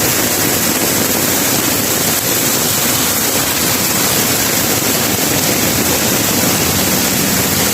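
Steady, loud broadband rushing of flood water on Dizon Street in a city barangay, a constant roaring wash with no pauses and no talk.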